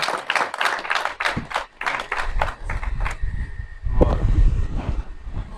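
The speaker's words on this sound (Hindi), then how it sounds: "भरपूर तालियां जी" Audience claps in scattered, rhythmic bursts for a poet at a stage gathering, the claps loud and distinct early on, then thinning out as low rumble and crowd noise take over.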